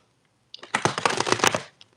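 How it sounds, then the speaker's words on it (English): A deck of oracle cards is shuffled by hand in a quick burst of riffling and flicking that runs for about a second, close and fairly loud, after a brief quiet start. "I'll give this deck a shuffle."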